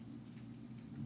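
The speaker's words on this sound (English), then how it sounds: "You can hear the rain outside." Steady rain falling outdoors, picked up faintly through a studio microphone as a continuous low hiss and patter, with no talking.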